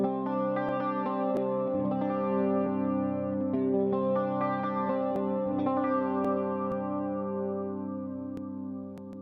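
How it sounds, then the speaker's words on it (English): An electric guitar through the Dr. Zima amp model's clean channel on a Valeton GP200 rings out in sustained, chorus-tinged chords and arpeggios, steady and full, with the final chord fading toward the end. "The next amp would be the Dr. Zima's, which is the clean channel."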